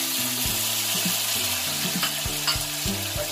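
Food sizzling and frying in a pan, onions and tomatoes for a vegetarian noodle soup, a steady close hiss with occasional stirring clatter and no talk.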